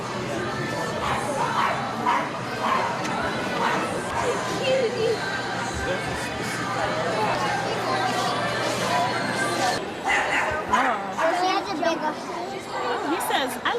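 At a community pet adoption event, a puppy barks and whimpers in short bursts while people chatter and talk all around it.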